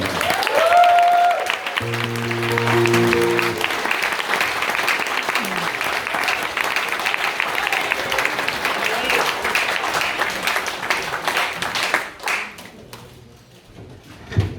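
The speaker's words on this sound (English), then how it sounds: "You get a bigger applause with a long walk" Audience applause welcoming a singer onstage at an opening concert, steady clapping that fills most of the clip, with a few brief tones near the start and a sudden drop-off at the end.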